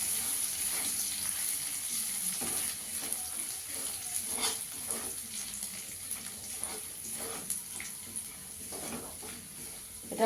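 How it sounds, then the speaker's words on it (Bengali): Ginger frying lightly in a pan for a paneer dish makes a low, continuous sizzle. Faint stirring scrapes and soft crackles run through it, close and steady for about ten seconds, with no voice. "আদাটাকে একটু হালকা ভেজে নেব।"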